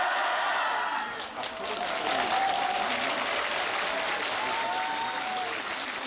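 Loud, sustained applause from a large crowd at a military training graduation ceremony, steady clapping with faint cheering mixed in and no break.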